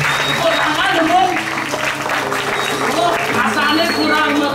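Audience clapping at a Balinese drama gong performance, a dense continuous patter of applause from a crowd with voices mixed in throughout, steady and fairly loud.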